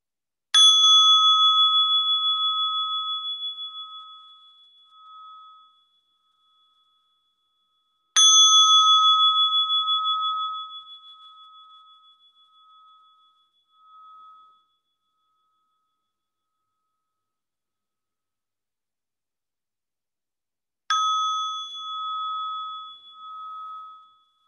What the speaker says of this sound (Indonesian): Saya akan bunyikan bel ini, namun biarkan kesadaran Anda tetap hadir